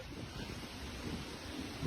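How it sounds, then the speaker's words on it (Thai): Strong wind near open water, a steady rushing roar with gusty microphone buffeting throughout, fairly loud and continuous, rising slightly at the end. "ว้าว ลมเยอะจังเลยอ่ะ"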